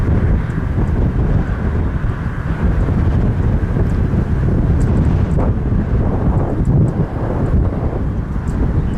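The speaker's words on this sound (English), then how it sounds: "Wind is picking up over here." Strong wind blows across an open airport at Toronto Pearson, buffeting the microphone in a loud, continuous rumble with gusty surges and no voices.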